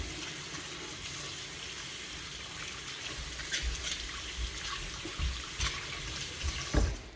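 Water runs steadily from a tap as scrubbed instruments are rinsed beneath it, a soft continuous splash with occasional low knocks and clinks of metal against the sink.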